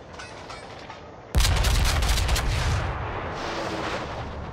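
Torpedo hits on the battleship New Mexico in a naval video game: after quiet ambient noise, a sudden loud booming blast erupts and rumbles on for several seconds, with crackling explosion debris trailing off.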